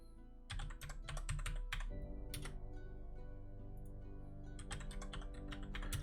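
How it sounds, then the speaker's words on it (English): Bursts of rapid clacking on a mechanical keyboard, close up, with a quick flurry of keystrokes, a pause with a few scattered taps, then another run of clicks near the end, no talk. "Sorry for my mechanical keyboard. You know, it's a bit noisier."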